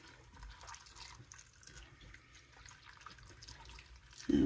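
Water streams into a cooking pot to cover cranberries, a steady close pour with light splashing, ending in a sharp bump.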